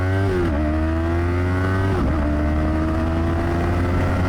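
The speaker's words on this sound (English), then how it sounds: "from a stop. That's full throttle." A Yamaha YZF-R3 sport bike pulls away from a stop at full throttle, its loud close engine note rising through the revs, dipping sharply at two gear shifts and climbing again, with no voices.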